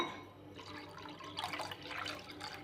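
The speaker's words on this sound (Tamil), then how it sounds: "இந்த மேலே உள்ள தண்ணியை நம்ம எடுத்துடலாம் இது நமக்கு தேவையில்லை இதில் ஊற்றிடுங்க" Water left from soaking wheat for Tirunelveli halwa is poured off into another vessel, a soft running and trickling splash that grows busier partway through.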